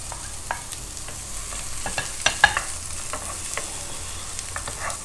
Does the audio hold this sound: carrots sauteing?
yes